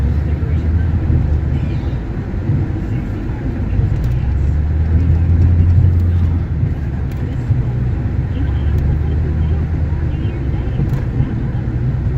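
An old pickup truck engine idles and rumbles steadily with a deep low drone, heater running, close by and continuous throughout, with no other sounds standing out.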